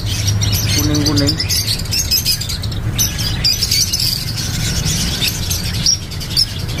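Songbirds at a bird kiosk chirp and tweet continuously amid busy market background noise, with a short tonal call near the start and a steady hum underneath.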